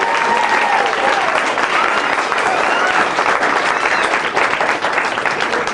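Loud, sustained applause from a large audience at a school children's concert, steady clapping filling the whole stretch with some crowd noise mixed in.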